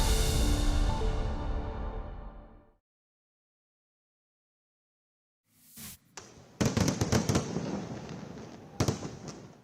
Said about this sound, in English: just a taste of the spectacular fireworks that lit up the skies above India tonight, ushering in Diwali